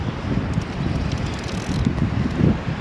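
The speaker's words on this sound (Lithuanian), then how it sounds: "Oras tai tikrai nelepina. Vėjas." Gusty wind blows at the Devynakiai carp fishing pond, buffeting the microphone with a low, constant rumble and faint rustling, and no voices.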